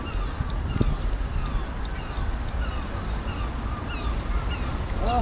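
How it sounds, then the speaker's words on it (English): Seagulls at the seaside in Bridlington call repeatedly against a constant rumbling background of wind and distant noise, with no single cry standing out sharply. "these seagulls really are noisy down here."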